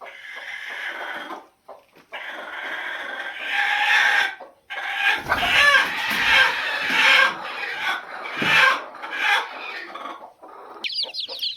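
A brooder of 21-day-old country chicken chicks gives a near, continuous chorus of chirps and clucks in busy overlapping bursts with short pauses.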